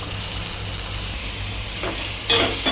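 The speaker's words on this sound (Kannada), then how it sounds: "ಮಶ್ರೂಮ್ ಕ್ರೀಮಿ ಮಶ್ರೂಮ್ ಇದನ್ನು ಒಂದು ಎರಡು ನಿಮಿಷ ಫ್ರೈ ಮಾಡ್ಕೊಳ್ಳಿ" Creamy mushrooms with garlic frying in a pan, giving a steady close sizzle with a brief stirring scrape and louder crackle near the end.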